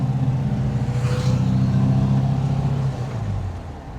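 A 1972 VW Bus with a new 38mm carburetor on a test drive: a steady, loud, close engine drone with a low rumble that eases slightly toward the end.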